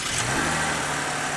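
A Cadillac ATS 3.6-litre V6 pulls steadily under acceleration, a smooth continuous engine drone with road and wind noise filling the cabin, loud and close.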